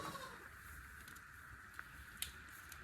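A faint goat bleat stands out over steady background noise, quiet and somewhat distant, with a few soft taps and rustles.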